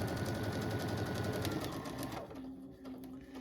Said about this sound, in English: I'm going to sew all the way around with a straight stitch.